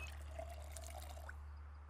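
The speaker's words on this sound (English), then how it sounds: "Fill kettle." Water runs into a kettle in the Project Zomboid video game, a steady trickling pour lasting nearly two seconds over a low constant hum, then tapering off at the end.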